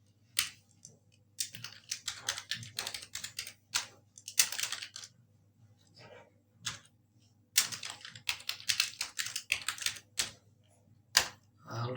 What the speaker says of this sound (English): I will continue typing